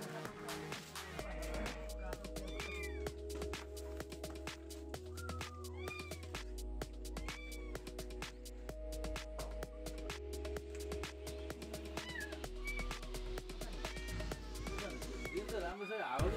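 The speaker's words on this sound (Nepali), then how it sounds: "हाम्रो घरमा फेरि बिरालो धेरै छ नि साथी हो" Several house cats at a home give thin, repeated meows, faint and scattered through a noisy background while a person talks over them.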